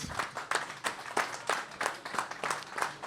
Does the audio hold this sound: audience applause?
yes